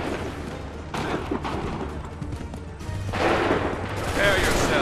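Musket volley gunfire in the Assassin's Creed 3 video game, a battlefield din of massed shots and crackling reports under shouted voices, swelling louder in bursts toward the end.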